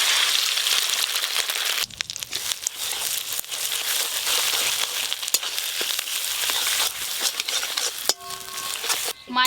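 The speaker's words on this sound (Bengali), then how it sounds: "মাছের ডিম আমি ঝুরো ঝুরো করে ভেজে নেব।" Fish roe fries and crumbles in a pan, giving a steady bright sizzle throughout with scraping and stirring clicks from a spatula, and no talk over it.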